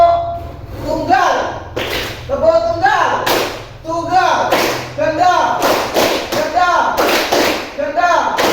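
A group gives single claps in unison on command during a school coaching session; a few sharp claps break through steady talking.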